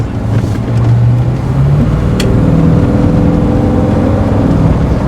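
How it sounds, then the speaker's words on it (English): A 1932 Ford three-window Deuce Coupe engine rumbles loudly and continuously, with a deep throaty idle that swells into revs. "It's a beast of an engine."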